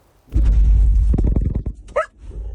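A dog barks and growls close by in a dense, rough burst of repeated barks lasting over a second, followed by a short high whine.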